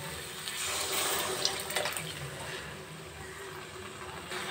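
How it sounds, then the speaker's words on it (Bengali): Leftover pressure-cooker water poured into a pan of boiled chana dal and fried potatoes, a soft, steady gush of liquid pouring, fairly quiet and close. "কুকারের যে জলটা রয়ে গেছে সেই জলটাই আমি এখানে দিয়ে দিলাম"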